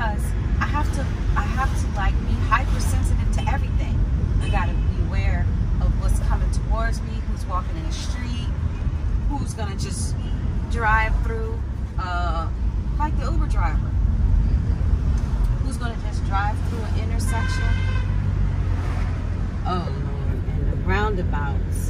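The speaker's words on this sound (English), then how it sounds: "So I'm driving slow so I can be in control" A car creeps slowly through traffic on roads in Ghana, its steady low engine and road rumble running throughout beneath near-continuous talking inside the vehicle, with occasional brief higher noises from the street.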